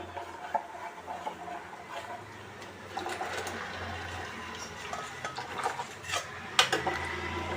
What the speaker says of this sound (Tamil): மாவு நல்லா கிண்டினே இருக்கு.